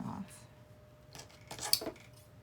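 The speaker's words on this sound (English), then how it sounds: "just need to trim that" Small scissors trim loose stitching thread on a hand-sewn piece: a couple of faint, quick snips close by in a quiet room.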